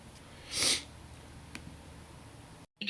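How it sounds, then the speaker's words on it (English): A person blowing their nose, one loud close burst near the start followed by a faint sniff, then quiet. "Oh, I gotta blow my nose or something."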